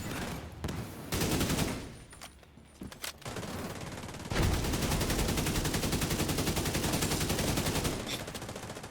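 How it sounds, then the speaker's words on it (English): Video game gunfire rattles in scattered bursts, then a long continuous stream of rapid automatic shots, loud and close, with no talking. "Some bad shooting on my end"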